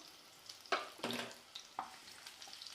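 A few brief crackling sizzles of sliced onions hitting hot oil, close by, with quiet gaps between bursts and no talking.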